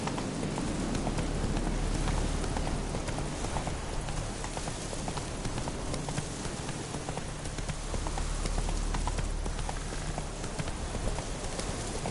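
Roach the horse trotting in The Witcher 3 on PS4, with steady, continuous hoof clip-clops over a constant rain-like hiss.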